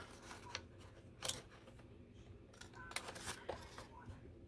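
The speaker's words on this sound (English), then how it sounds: "I'm just gonna use my scissors because I'm not gonna run it back through." Scissors snip paper or card in a series of quiet, crisp cuts, several sharp clicks spaced irregularly against a faint background hum, with no talking.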